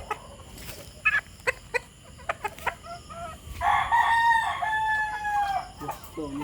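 A native rooster called Golden Boy crows once, close and clear, with a few sharp clucks and taps before it and quieter calls trailing after.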